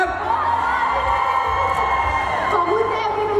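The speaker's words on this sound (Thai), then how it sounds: "คุณป๊อปขอเสียงเชียร์หน่อยคุณเจมส์หน่อยครับ" An audience at a fan game show cheers for James, a loud sustained roar of shouts and whoops from many voices with an announcer talking over it.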